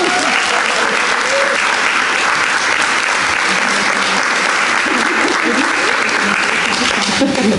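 Audience applause at a therapeutic massage program graduation ceremony, a dense steady clapping from a sizable crowd lasting throughout, with a few voices faintly mixed in.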